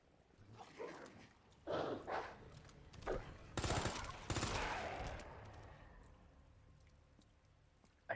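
Dog barks and bursts of gunfire in the video game Resident Evil 2, a few sharp barks followed by a loud rapid volley of shots that fades into a quieter tail.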